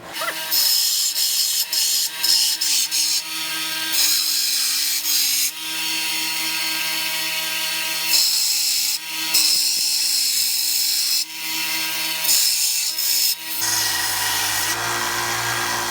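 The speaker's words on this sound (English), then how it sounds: "we're going to go ahead and hit this on the belt sander, get the final shape I want" A belt sander running a worn 40-grit belt shapes a small forged-steel cross peen key chain, a steady motor whine broken by harsh grinding surges as the metal is pressed on and lifted off.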